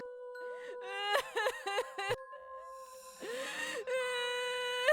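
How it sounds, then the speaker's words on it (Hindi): A wavering, tonal wail of someone crying in a horror story, with a sobbing, broken middle section and a sustained high moan at the end, up close and alone. "मुझे अचानक किसी के रोने की आवाज़ सुनाई दी"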